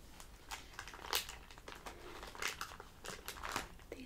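Small crinkly cocoa packets being handled up close, giving repeated sharp plastic crinkles and rustles in bursts, quiet and intimate with no talking.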